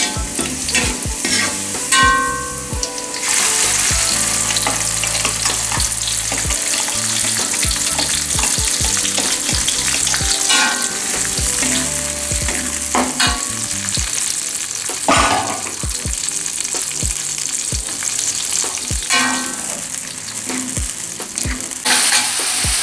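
Steady loud sizzling of blended chili paste frying in hot oil for sambal, with repeated sharp scrapes and clinks of a utensil stirring, close up throughout.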